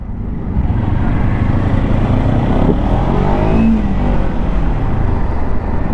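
A 2023 Kawasaki Ninja 300 sport motorcycle's engine revs hard and steadily under acceleration, a loud, close, continuous drone with no talking over it.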